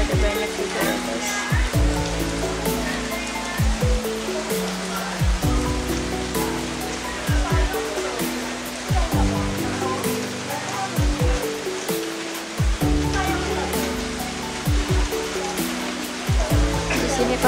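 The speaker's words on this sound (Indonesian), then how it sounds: "di sini kondisinya lagi hujan guys, kelihatan nggak? Deras banget ini." Heavy rain pours down steadily at Tanah Lot, a dense continuous wash of splashing water close by, with faint voices now and then underneath.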